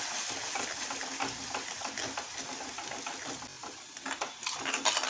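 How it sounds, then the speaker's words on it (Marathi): Prawn masala spices with Kashmiri chilli powder sautéing in a pan, a steady soft sizzle and frying crackle with light scraping, fairly faint and continuous with no talk. "अर्धा मिनिट मसाले छान असे परतून घ्यायचे आहे."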